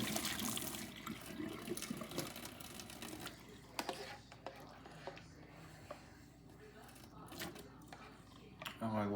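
Water from a pot of cooked pasta shells is poured out into a sink in a kitchen, a faint splashing and gurgling drain with some clatter and handling noise.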